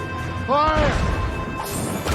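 Ship cannons boom in Assassin's Creed Rogue: two heavy crashing blasts roughly a second and a half apart, set against a constant din of naval battle noise.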